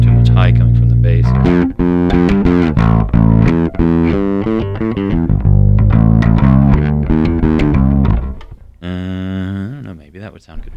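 A bass guitar played through a Hardwire SC-1 valve distortion pedal churns out loud, gritty, sustained notes in a riff, with a brief pause near the end before a last distorted note rings out.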